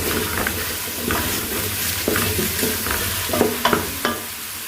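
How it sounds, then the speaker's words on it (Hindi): Whole spices frying in oil for an aloo gosht, a steady sizzle with several sharp scrapes and clinks of a spoon stirring the pan, close and alone. "इन मसालों को हम 2 से 3 मिनट तक भून लेंगे।"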